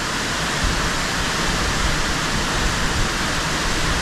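Salto Curet waterfall in Maricao, Puerto Rico, heard from a viewpoint as a loud, steady, broadband rushing roar of falling water, unbroken and with no voices.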